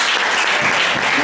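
A congregation at a Sunday church service claps together in a loud, dense burst of applause that fills the whole brief moment.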